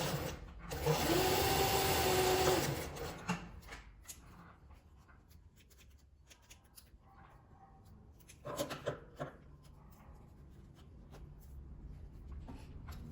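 A sewing machine stitches fabric for a small card purse, with a backstitch: one loud, steady burst of fast stitching near the start, then quieter handling and a second short run of stitching later.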